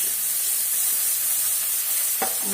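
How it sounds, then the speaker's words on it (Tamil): Country shallots with curry leaves sautéing in a pan, a dense steady sizzle with a couple of sharp scraping stirs near the end, no voices. "வெங்காயம் நல்லா வதங்கட்டும்."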